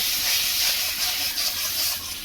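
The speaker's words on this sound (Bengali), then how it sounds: "এবার আমি খুব ভালো করে ডিমটাকে একটু ভেজে নেব" Beaten egg fries in hot white oil, giving a continuous bright sizzling hiss that rises and falls slightly in intensity.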